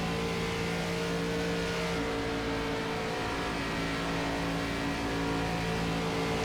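ARCA race cars in the iRacing sim, several engines droning steadily together at a constant high pitch with no talking, like a pack running in close formation on track.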